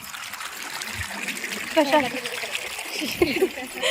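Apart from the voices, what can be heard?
rainwater flowing and splashing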